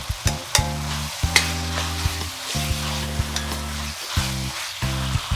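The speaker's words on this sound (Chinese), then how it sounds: "把番茄炒到软烂出汁， 再下入剩余的配料翻炒。" Tomatoes stir-fried with scallions and the remaining ingredients in hot oil, a steady sizzle under repeated scraping strokes of a spatula against the wok, with sharp clanks at irregular intervals.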